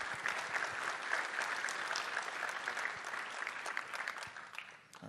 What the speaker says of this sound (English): Another round of applause for demoing this stuff.